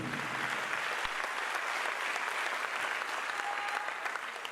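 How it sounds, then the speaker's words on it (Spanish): A church congregation applauds for the Holy Spirit, a broad, steady roar of many hands clapping at once, sustained and even like rain, without any talk over it. "denle un fuerte aplauso al Espíritu Santo"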